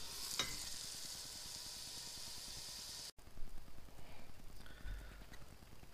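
Tomatoes frying and softening in a pan for a vegetarian pasta, a steady sizzle with occasional stirring scrapes, fairly close, broken by a brief pause partway through.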